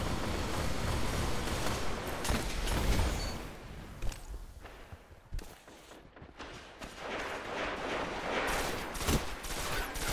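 Rapid gunfire crackles through a Destiny championship match, steady volleys and sharp shots over game ambience, loud and continuous.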